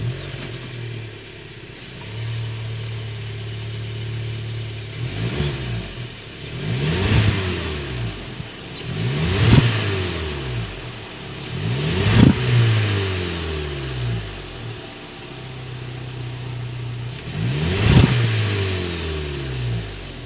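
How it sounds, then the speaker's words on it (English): A 2023 Volkswagen Jetta Sport with a 1.5-liter TSI turbocharged four-cylinder fires up and settles into idle, then revs up four times in sharp rising-and-falling bursts, the exhaust note close and clear with no talking. "Let's start it up so you can hear that exhaust note."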